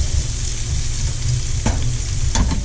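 Bacon fat sizzles and crackles steadily in a hot pan, close and loud, with a few sharper pops near the end.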